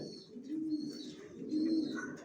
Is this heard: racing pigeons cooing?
yes